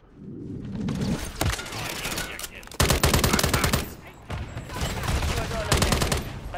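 Gunfire rings out in Modern Warfare 3 multiplayer as rapid automatic bursts, loud and close in several separate strings, with a player's voice talking in between.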